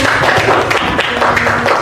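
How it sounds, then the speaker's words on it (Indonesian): Students in a classroom applaud with steady, dense clapping that fills the short moment at close range. "berikan tepuk tangan yang meriah"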